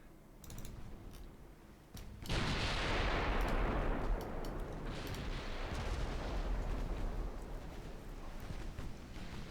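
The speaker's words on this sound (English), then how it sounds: "Firing both sides with the casemates." Warship casemate guns firing from both sides in a naval video game battle: a quiet lead-in with a few sharp cracks, then a sudden heavy roar of sustained, overlapping gunfire with deep booms that keeps rumbling loudly to the end.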